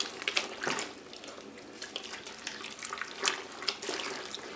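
Water runs steadily from a tap with a hissing, splashing rush, fluctuating slightly as it hits the basin, close by with no talking.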